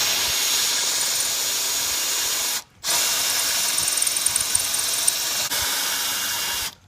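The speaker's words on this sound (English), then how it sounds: "you most likely have to drill out some pop rivets too" A power drill working on pop rivets during a lawnmower repair, with a steady loud hissing whir that runs continuously, breaks off once for a moment, and starts again.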